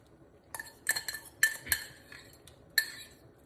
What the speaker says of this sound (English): Stir the pot.